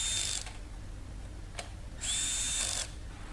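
A power screwdriver drives screws into a hard drive mounted inside a DVR, with two short whirring bursts separated by a brief click, close and fairly loud with no talking.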